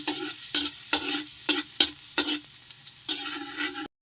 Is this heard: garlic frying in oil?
yes